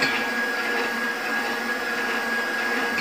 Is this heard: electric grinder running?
yes